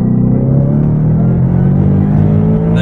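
Supercharged 2018 Roush Ford Mustang pulling hard in second gear, a loud, steady engine roar with rising harmonics that builds across the whole stretch, heard from inside the car with no talking.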